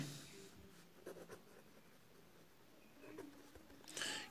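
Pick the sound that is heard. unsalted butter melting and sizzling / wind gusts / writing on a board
writing on a board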